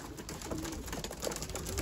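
A racing pigeon with a leg ring coos softly in a loft, a few low, faint, brief calls over a hissy background.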